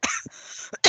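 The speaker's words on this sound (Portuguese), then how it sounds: "desculpa a tosse" A single sharp cough bursts out, followed by a short throat-clearing rasp and another harsh cough close to the microphone during a thesis defence.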